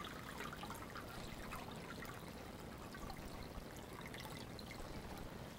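Tap water runs steadily over lentils being rinsed under a sink, a continuous close trickling and splashing wash that fills the whole stretch without any voices.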